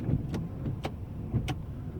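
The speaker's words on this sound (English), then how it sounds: "Wipers work on all speeds." Windshield wipers run on a 2002 Toyota Tundra SR5 TRD 4WD, three faint sweeping strokes in steady rhythm over a low idling hum inside the cab.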